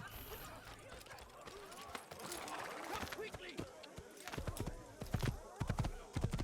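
Horse hooves clip-clop in the Assassin's Creed video game as a white horse is ridden off, steady rhythmic hoofbeats growing louder toward the end, with game sounds and someone talking over them.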